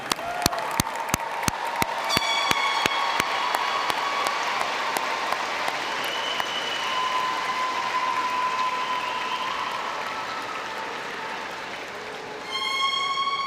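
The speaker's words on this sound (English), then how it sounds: "Let's give another round of applause for this evening's graduates." A large commencement audience applauds graduates with sustained, dense clapping that fills a big hall, a few sharp claps standing out at first before the sound settles into a steady roar and swells again at the end.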